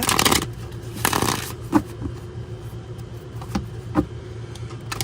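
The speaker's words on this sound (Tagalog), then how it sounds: "Balasahin natin maigi" Quick papery riffling bursts of cards being shuffled, a dense flurry at the start followed by a few softer single snaps over a low background hum.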